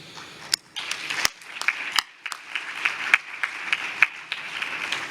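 Audience applause at a plenary session of the UNCTAD15 conference: loose, uneven clapping from a modest crowd, with distinct individual claps popping out over a continuous patter, fairly close and clear.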